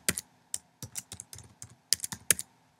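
A password is typed on a computer keyboard in a quick, uneven run of sharp, close key clicks with short pauses between bursts, and no one speaks.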